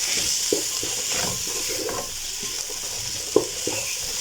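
A spoon stirs rice in a salted pot, scraping and knocking softly against the pot over a steady sizzling, bubbling hiss, with no talking.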